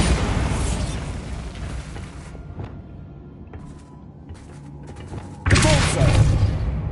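A Bombarda blasting spell goes off in Hogwarts Legacy with a sudden loud, bursting boom near the end, after quieter game effects and scattered clicks and pops.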